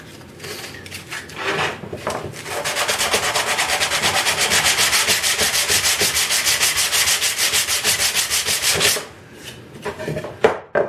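Wood being sanded by hand with 100 grit sandpaper: close, steady back-and-forth rasping strokes in a quick even rhythm that run for several seconds, with a few scattered strokes before and after.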